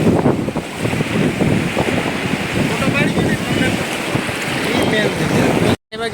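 Floodwater rushes across flooded farmland after heavy rain, a loud, dense roar with heavy wind buffeting the microphone and a brief dropout near the end.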